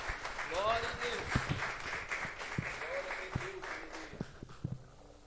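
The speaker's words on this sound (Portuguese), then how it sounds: "Vamos recebê-los bem alegre, aplaudindo a Jesus." A church congregation at an evening service in Rio Negro, Paraná claps with rhythmic, fairly faint claps throughout. Voices speak and sing over the clapping, and sharper claps stand out toward the end.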